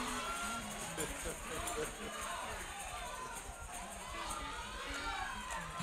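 A church congregation at a Palm Sunday night service raises a loud, steady roar of crowd noise, with shouting and voices blending into a dense wash that holds throughout.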